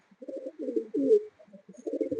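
A domestic pigeon, about seven years old, coos in a loft in several close, low, throaty bursts with short pauses, heard alone without talk.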